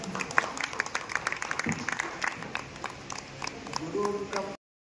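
A crowd at a school alumni gathering applauds a former headmaster. Dense clapping swells and then fades slightly over several seconds before ending abruptly.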